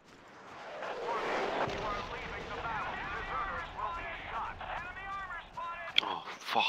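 Howitzer artillery fire rumbles in a Battlefield-style war game, a booming roll that swells and lingers, followed by scattered sharper shots, with voices talking over the battle throughout.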